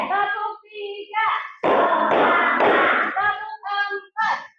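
A class of fifth-grade children claps in unison as part of a counted classroom clapping routine, the claps landing as dense bursts between a teacher's spoken counts.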